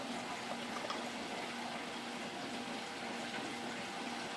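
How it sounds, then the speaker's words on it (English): Water rushing into plumbing through a newly opened valve, a faint, steady hiss and flow with a low continuous hum beneath it and no speech. "I'm going to turn this on. This should allow water to go in there."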